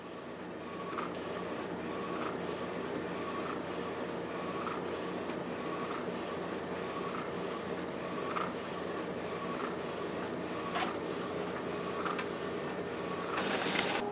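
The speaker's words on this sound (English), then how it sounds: "I'm running a test pattern here" A Canon Pro 100 inkjet printer prints a test pattern, running as a steady mechanical whir with regular rhythmic carriage passes and faint clicks, close and continuous for the whole stretch.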